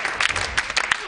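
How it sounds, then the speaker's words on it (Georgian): A studio audience at a Georgian late-night TV talk show breaks into brief applause, a dense patter of many hands clapping close and loud throughout. "თქვენი აპლოდისმენტები მულტიპულტის სამყაროს"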